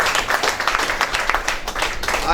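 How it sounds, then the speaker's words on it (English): Scattered hand clapping from an audience at a university press briefing, moderately loud, steady and fairly dense for a couple of seconds without a clear break. "I think we deserve a round of applause."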